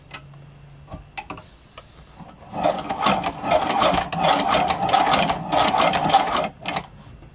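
A fully mechanical sewing machine, being serviced before it is oiled, stitches steadily for several seconds after a few clicks and knocks. It makes a close, loud, rapid ticking clatter with no talk.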